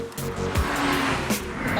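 A BMW 135i drives with a steady engine note and some tyre noise, heard up close for a short moment with no talk over it.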